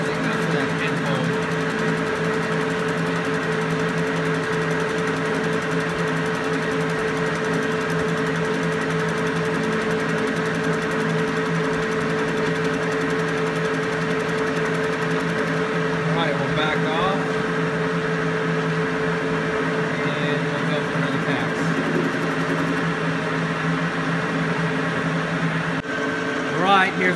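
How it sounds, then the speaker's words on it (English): A LeBlond lathe makes an interrupted cut on a metal bar, giving a steady motor hum with faint rhythmic ticks as the tool meets the pinhole, continuous and close throughout. "Here's the last cut on our LeBlond Lathe."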